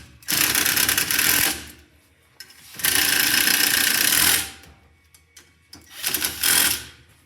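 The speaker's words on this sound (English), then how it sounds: "Finish tightening it, which I'm going to use the impact." A pneumatic impact wrench tightens the primary clutch on a PB80, firing in three loud, close bursts of hammering buzz, each a second or more long, with short quiet gaps between them.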